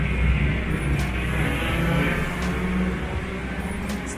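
A Falken Tire car drifting at night at Gridlife Midwest, its engine a steady loud drone with a brief rise in revs, heard close and continuous throughout.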